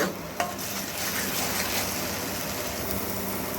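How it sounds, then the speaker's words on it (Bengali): Spiced flat beans being stirred and dried out in a pan, a dense, even sizzle with a single sharp spoon knock near the start, close and continuous with no talking. "দিয়ে একটু ভালো করে নাড়াচাড়া করে পুরো শুকিয়ে নেব"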